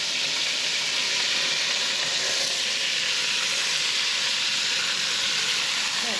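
An overheated cast iron pan for sweet and sour Hungarian goulash sizzling hard, a dense, loud, unbroken hiss and spatter close up that stays level throughout, with no talking.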